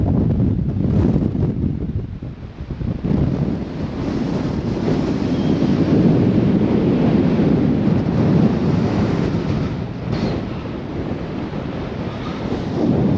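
Strong wind buffets the microphone in loud, rumbling gusts at 1,050 meters on the summit of Mount Augustus, Australia, a continuous roar that rises and falls throughout, with no other sounds standing out.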